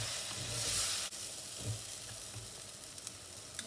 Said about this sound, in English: Let the chili paste cook nicely in the oil